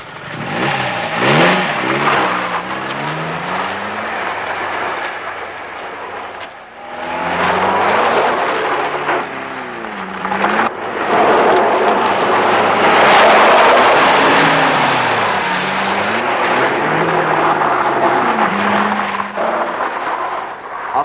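A car engine revs and surges in repeated waves, rising and falling in pitch as it accelerates, loud and close with no talking.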